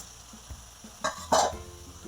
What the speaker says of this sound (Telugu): డిప్ చేసుకోవాలి ఆయిల్లో.